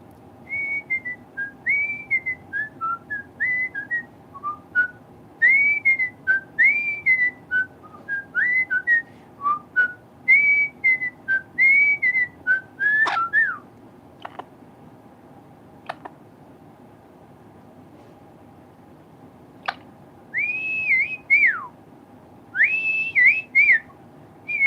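A pet parrot whistles in short, repeated rising-and-falling phrases, clear and close, with pauses between runs and a few faint ticks and clicks in a quiet room.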